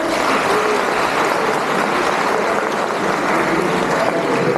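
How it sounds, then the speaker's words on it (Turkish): Applause at a wedding ceremony, a steady wash of many hands clapping at a constant loud level with no pauses. "Alkışlardan da anlaşıldığı kadarıyla damat beyin verdi cevap oldu."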